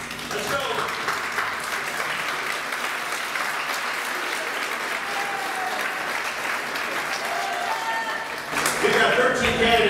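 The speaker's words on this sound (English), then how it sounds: "I want you to give yourselves a round of applause." Parents in a scholarship pageant audience at a blueberry festival applaud in a long continuous wash of clapping, swelling louder with a burst near the end, with faint crowd murmur and occasional voices underneath.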